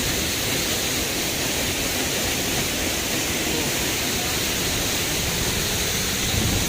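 A waterfall roars in a steady, dense, broadband rush that stays loud and unbroken throughout, with no clear voices.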